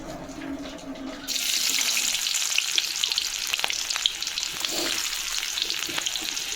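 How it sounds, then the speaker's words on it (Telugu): Sliced onions drop into hot oil for a fish curry and burst into a loud, continuous close sizzle after a quieter opening moment, with faint utensil taps scattered through the frying. "నూనె అయితే కాగింది, నేనైతే ఈ ఎర్రగడ్డలు అయితే తీసుకుంటున్నాను"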